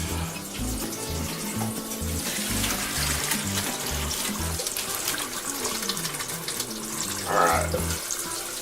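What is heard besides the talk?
water draining off boiled potatoes into a sink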